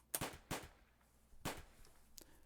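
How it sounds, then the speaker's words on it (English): Gunfire in the Angels With Scaly Wings video game comes as a sharp, echoing burst of several separate cracks spread unevenly across the moment, fairly faint with no talk. "My train of thought was violently interrupted by a sharp burst of gunfire echoing from the portal."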